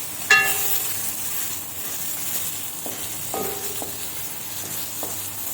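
Eggplant slices frying in oil with salt and turmeric give off a steady, close sizzle, broken by a few sharp clinks of a utensil against the pan.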